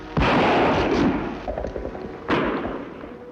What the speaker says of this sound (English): Shots come from that way, Kemosabe.